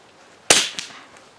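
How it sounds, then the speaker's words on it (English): .22LR rifle fires a single sharp shot outdoors during chronograph velocity testing, a crisp crack followed by a short decaying echo, with no voices. "so I'm going to fire again."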